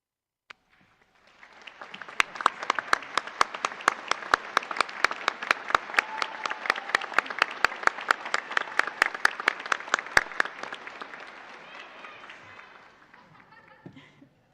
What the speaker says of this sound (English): please stand so we can applaud you for a moment